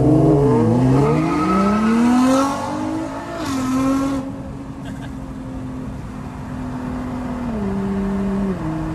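A GTR and a Q60 race on a road, engines revving and rising in pitch with a brief burst of tire squeal early on, then settling into a loud, sustained drone close by.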